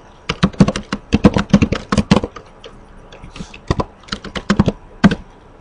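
Fast, crisp keystrokes on a computer keyboard as network switch commands are entered, coming in close, loud bursts of rapid clicks separated by short pauses, with no talking.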